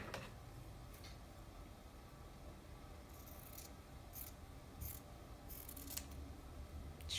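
Scissors snip through a fabric seam allowance during sewing, with a few faint, quick cuts against a quiet room background.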